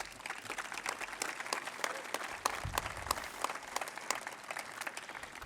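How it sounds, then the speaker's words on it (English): A crowd claps at an outdoor Veterans Day event honoring veterans, with a steady patter of applause that runs the whole time at moderate volume. "Let's give our vets a round of applause."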